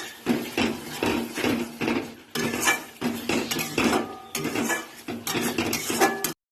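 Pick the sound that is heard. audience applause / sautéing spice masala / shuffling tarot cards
sautéing spice masala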